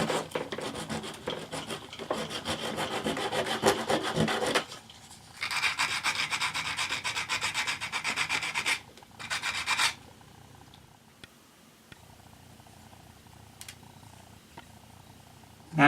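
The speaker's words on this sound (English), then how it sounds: "And finish it off with sandpaper." A toy robot part rubbed with sandpaper, steady close scratchy rasping strokes in two long runs separated by a brief pause, then a short final pass and quieter handling.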